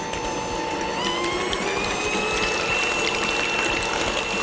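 An electric mixer whipping eggs until frothy, a continuous loud whirring hum with rattling and clicking of beaters against the bowl, with no talk.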